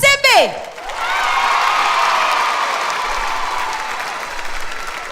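Audience applause and cheering for the sponsor MCB on the TV show Timambo, a brief whistle-like swoop at the start, then sustained loud clapping with whoops from the crowd that slowly eases.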